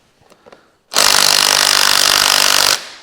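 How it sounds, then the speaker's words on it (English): A small impact nut gun hammers at cylinder head nuts on an FE35 tractor engine, a loud, close, rattling burst lasting almost two seconds after a few faint clicks, then stopping abruptly. "I don't know if my little nut gun will have enough go"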